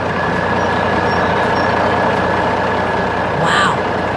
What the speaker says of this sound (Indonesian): mesin konstruksi kuning besar sedang bekerja di tengah gunung yang keras, menarik beban besar